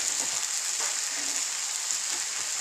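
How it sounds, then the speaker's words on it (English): Mushrooms in teriyaki marinade sizzle steadily in a frying pan, a soft, even hiss with faint crackles throughout and no voices. "Pour these mushrooms in that frying pan."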